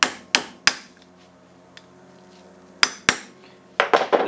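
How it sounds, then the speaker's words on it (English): Sharp metallic taps ring out as a 13 mm socket drives a frozen bearing into place during a clutch replacement on an AC Nitro 200, two strikes, then a pause, then two more, then a cluster of quick blows at the end. "we take the 13 millimeter and we tap it in"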